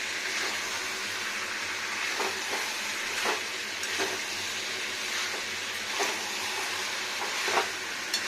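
Chicken curry masala being stir-fried in a pan, a continuous low sizzle with regular scraping strokes of a spatula every second or so, close and moderately quiet with no voices.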